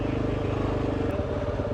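Off-road motorcycles idle and rumble steadily on a Colorado backcountry trail, a continuous close engine drone with low, even pulsing throughout.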